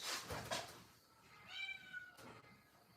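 Domestic cat meowing in one long drawn-out call, fairly clear and close, with faint rustling around it and no speech.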